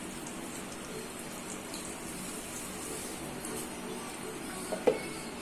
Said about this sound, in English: so we like to put a little bit of water.